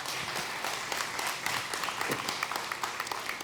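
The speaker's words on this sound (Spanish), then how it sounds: "Un aplauso a Cristo." Church congregation clapping after a sermon prayer, a dense steady patter of many hands sustained throughout with no voices on top.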